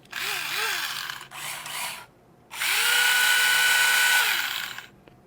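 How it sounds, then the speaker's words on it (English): A Tamiya electric handy drill boring through a carbon piece, three bursts of high whirring with the motor pitch bending up and down, the longest run lasting about two seconds, close and loud with no talk. "It's going to take a long time, I think, to drill right completely through this carbon piece."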